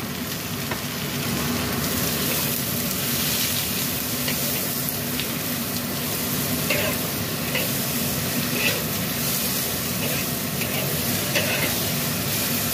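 Bitter gourd added to a frying pan for a spicy-sweet stir-fry with chicken liver and butter, a steady loud sizzle with faint scraping of stirring throughout.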